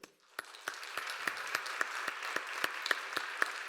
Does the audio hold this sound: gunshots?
no